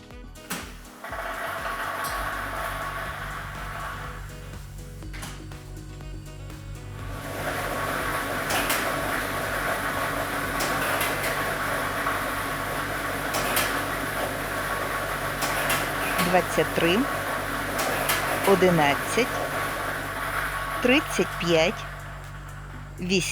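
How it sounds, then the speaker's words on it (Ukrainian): During a Ukrainian state lottery draw, lottery machine B, loaded with ball set number 2, switches on and settles into a steady whirring rumble with light rattling of balls, alongside speech. "І ми вмикаємо лототрон"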